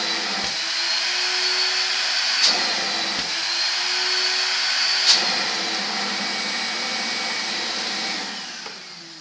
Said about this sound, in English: let me turn on the vacuum and hear how it sounds